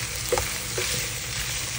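Garlic, onion, ginger and lemongrass sautéing in a pan for ginataang kalabasa at sitaw, a steady close crackling sizzle with a couple of soft stirring scrapes, no voices.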